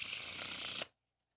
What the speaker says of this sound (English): when cards get shuffled like this